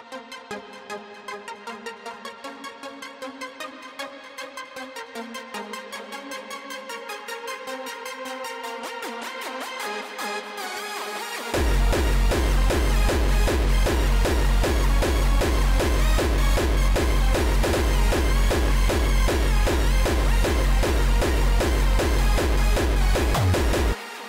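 A buzzy, detuned hardstyle synth lead made in ZynAddSubFX within LMMS plays a repeating melody alone, then pounding distorted kick drums join in a driving, fast pattern.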